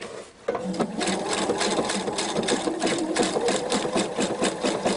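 An overlock sewing machine runs steadily while stitching along the edge of stretched elastic on a tiered skirt, a fast even whir with rhythmic needle chatter that starts after a brief pause and continues loud and close.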